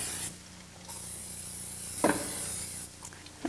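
Cooking spray hisses from a can onto a waffle iron in two bursts, the first short and the second lasting about two seconds, close and fairly loud, separated by a small clatter.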